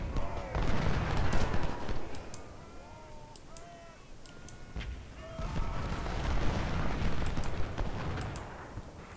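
Musket volleys and artillery fire in the Civil War strategy game Ultimate General: Civil War, heavy booming bursts that swell and fade across a rumbling battle din, with faint whistling tones over it.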